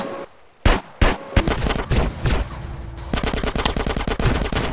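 Rapid gunfire: a few loud, separate shots ring out, then a fast, sustained volley of close, sharp bursts fills the last half of the clip.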